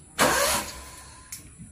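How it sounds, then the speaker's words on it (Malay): A Perodua Viva engine cranks once in a short, loud burst after a spark plug change, then falls quiet, with a faint second blip moments later. "kita on kunci dan coba start dia macam tu"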